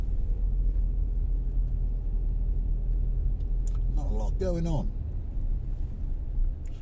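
Steady low road rumble from inside a car driving from Stroumpi village toward Paphos in Cyprus, with someone talking briefly over the constant engine and tyre noise.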